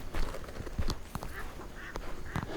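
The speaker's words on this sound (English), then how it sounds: "And there go the ducks." Brief, nasal duck quacks sound a few times at moderate distance over an outdoor background of footsteps on a dock and light rustling.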